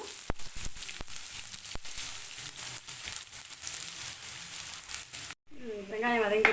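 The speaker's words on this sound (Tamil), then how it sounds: "வெங்காயம் நல்லா வதங்கணும்." Onions sauté in a pan with curry leaves and cardamom for pepper chicken, a faint steady sizzle with a few sharp clicks, ending as a voice starts talking.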